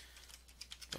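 Password being typed on a computer keyboard: a quick run of light key clicks, fairly close and soft, ending in a slightly louder burst of keystrokes.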